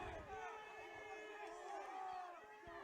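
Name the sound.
football fans cheering in stands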